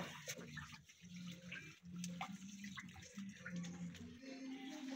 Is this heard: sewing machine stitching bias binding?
no